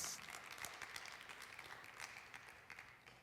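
Church congregation applauding at a sermon, a quiet, diffuse wash of many hands clapping at a steady level for a few seconds, distant and soft.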